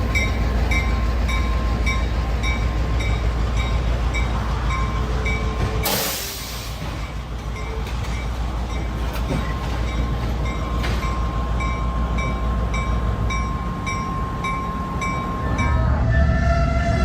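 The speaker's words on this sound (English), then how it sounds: "this Reading and Northern train suddenly jumped the tracks" A Reading and Northern excursion train out of Jim Thorpe, Pennsylvania rumbles loudly along the rails. A sustained horn tone runs through it, with a sharp rushing burst partway through. Clanking rail noise follows, and there is no talk.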